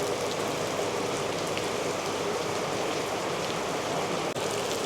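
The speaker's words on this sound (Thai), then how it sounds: "ฝนตกหนักตอนนี้พี่น้อง" Heavy rain pours near a mini-mart by a road toward the Laos–Vietnam border, a dense, unbroken hiss of drops that stays loud and steady throughout, with no voices.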